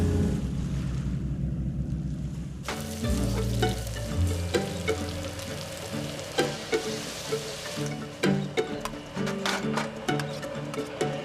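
Seafood frying at a cooking spot by the sea after a fishing trip, a steady loud sizzle with clanks of stirring and utensils, after a quieter stretch of low background rumble.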